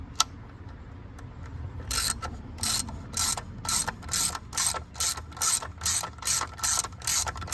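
A ratchet wrench clicks in steady, evenly spaced bursts, starting after about two seconds, as it tightens a 10mm nut during a spark plug change on a 2006 Dodge Dakota 4.7L; the clicks are close and distinct over a low background hum.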